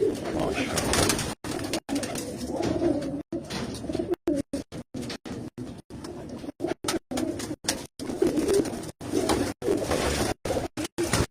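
Pigeons from Punjab kept by a fancier in Tando Allahyar, Sindh, coo steadily in a low rolling murmur, close and continuous, with a few short breaks and bird chatter around them.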